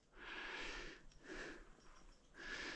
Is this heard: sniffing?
yes